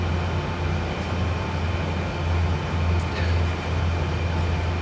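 A train running in Train Sim World 4, a steady low rumble and hum of the moving train with a constant broadband roar and no speech.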